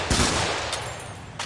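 A short burst of gunfire in the twin-stick shooter Helldivers, a few quick sharp shots spaced across under two seconds, fairly loud against a steady background hiss.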